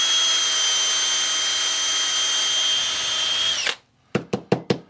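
A power drill whines steadily as it bores into the inside of a broken golf shaft, then cuts off and gives four short bursts of the trigger, loud and close, with no voices.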